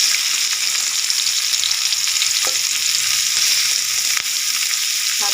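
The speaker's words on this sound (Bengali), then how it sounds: "দিয়ে দেবো পেঁয়াজ কুচানো," Chopped onions frying in hot oil in a pan, a dense, even sizzle that fills the whole stretch, close and loud, with a couple of faint clicks and no talking.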